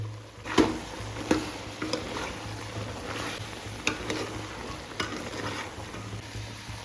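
Sambar powder being stirred in a hot pan for a Tamil sambar, with a soft steady sizzle and a few sharp scraping knocks of the spoon against the pan.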